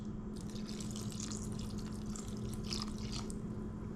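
Lemon juice poured into a bowl while a lemon ricotta cheesecake is being made, a soft continuous liquid trickle with faint splashes, quiet and close.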